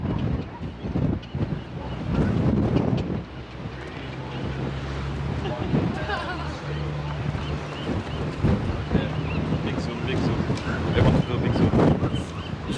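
Wind roars and thumps against the microphone in heavy gusts on foggy Alcatraz Island while a person talks intermittently in French over it.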